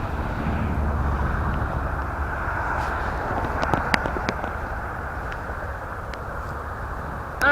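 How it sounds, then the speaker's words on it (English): A Delta airliner takes off at an airport, heard as a steady, distant broadband roar that holds evenly throughout, with faint scattered clicks and no talking. "I hear an aircraft taking off."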